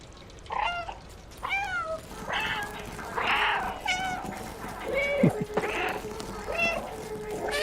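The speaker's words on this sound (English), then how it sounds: "I like how you can use that meow button even during other animations, like during your scratching" A cat in the video game Stray gives a series of short, bright meows, roughly one every second, fairly close and clear over a quiet background with faint incidental game sounds.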